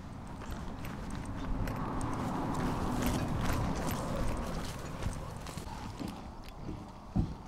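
Backstage at a horse racecourse, hooves clop and shuffle amid creaks and mechanical rattling under a busy, noisy background, with a sharper knock near the end.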